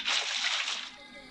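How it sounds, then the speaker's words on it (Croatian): Water poured from a bucket in Minecraft gives a short, bright splashing slosh that fades within about a second, heard alone. "Evo ovdje vode da dodamo."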